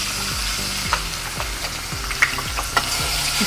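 Green masala paste fries in hot oil, sizzling steadily up close while a spoon stirs it with a few soft scrapes and taps, and no one speaks.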